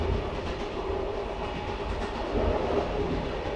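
A train rumbles steadily along the tracks in Utah, a continuous heavy clatter and roar from start to finish with no voices.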